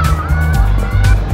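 BMW 1300GS motorcycle engine running loud and close, a steady low throbbing drone with small rises in revs, continuous for the whole moment.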